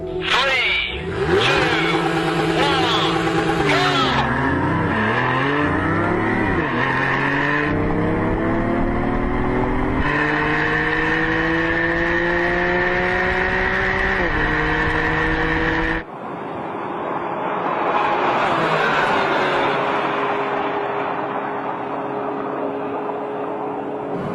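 A BMW i8 hybrid sports car launches hard in Sport mode, its engine revving loudly and climbing through several gear changes with brief dips between shifts, then a fainter, steadier drive-by roar at the end.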